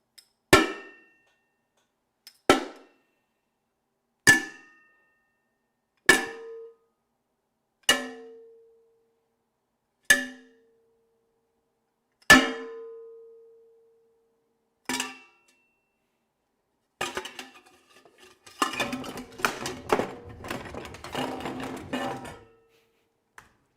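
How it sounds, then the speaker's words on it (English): Stylized metallic clanks for a brass-armored creature in a video game: eight sharp, ringing hits spaced about two seconds apart, each decaying quickly, then a denser clattering burst of jumbled metal rattles at the end. "Clanking."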